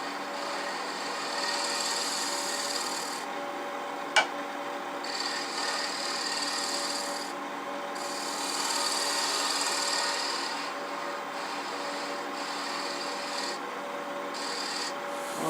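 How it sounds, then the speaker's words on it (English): A negative rake scraper drawn across wood for a clamshell box gives a soft, continuous rasping scrape in repeated strokes, with one sharp click partway through, quiet and close. "we're going to come in there with a negative rake scraper to kind of clean that"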